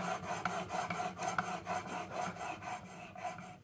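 A coffin smoother plane iron rubbed back and forth on DuoSharp diamond stones, giving a steady rasping scrape in a regular rhythm of strokes, close and moderately loud, with no talk.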